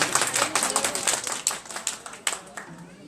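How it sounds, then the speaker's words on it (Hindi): Sparse, half-hearted audience clapping at a political gathering in Workers PIB Colony, a thin scattering of claps rising and falling with a few sharper bursts, fairly close and without much energy. "बड़ी सूखी सूखी रूखी रूखी तालियां हैं भाई।"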